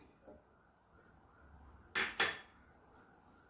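Cut yam pieces drop into a pressure cooker of cooked cowpeas, two sharp metallic clinks close together, then a lighter tap, with a quiet kitchen around them.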